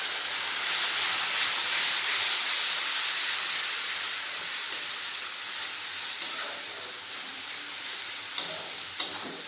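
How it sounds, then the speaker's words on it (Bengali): Hot water poured into sizzling ground spices for a mutton curry gives a steady, loud steamy hiss that slowly eases, with a few faint clicks near the end and no talking. "দিয়ে দেবো গরম জল গরম দিয়ে মশলাটা কষিয়ে নেব গরম জলে"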